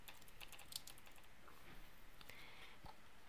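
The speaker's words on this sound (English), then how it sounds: "In the command box, type picture frame." A computer keyboard on a Mac being typed on, a quick run of faint, light key clicks against a low background hiss.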